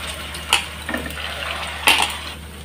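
Semolina and boiled-potato snack pieces are dropped one at a time into hot frying oil, giving a steady sizzle with two brief, sharper splashes as pieces go in.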